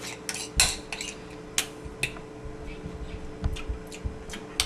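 A utensil scrapes and clinks against a dish in irregular strokes, close up, as a thick chocolate filling with a little water is stirred; faint background hum.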